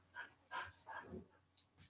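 A dog gives a few short, quiet barks and whimpers in an irregular sequence, fairly near but low in level, with breathy sounds between them.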